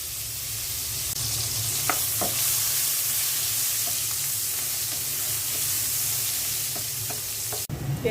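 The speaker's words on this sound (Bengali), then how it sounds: "মাছ ভাজা তেলের মধ্যে পেঁয়াজ দিয়ে দিচ্ছি।" Onion sizzling in oil left over from frying fish, a continuous close hiss with occasional utensil taps and stirring scrapes, no one talking, during cooking of a Bengali fish curry with eggplant, radish and potato.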